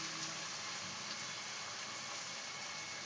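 Chicken added to a hot pan with spices, giving a steady, soft sizzling hiss with faint crackle, even and unbroken throughout, with no talking.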